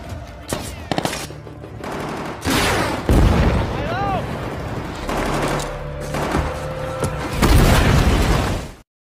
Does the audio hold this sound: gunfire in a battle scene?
yes